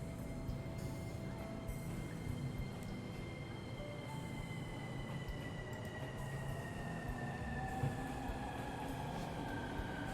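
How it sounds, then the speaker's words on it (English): Subway train in the video game 13 Sentinels: Aegis Rim: a steady rolling rumble of carriages with long, thin wheel squeals that rise and fall over it, continuous and fairly close throughout. "These are some authentic subway sounds."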